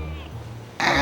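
A golden bicolor British Shorthair cat gives a short, close meow, followed abruptly by a louder burst of voice or noise.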